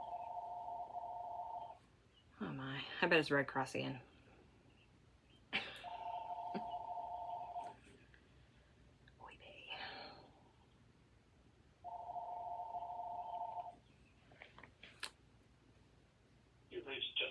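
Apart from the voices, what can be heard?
phone ringing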